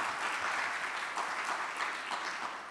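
Sustained applause from a crowd at a university fall convocation, a steady wash of many hands clapping with no pauses, fairly loud throughout.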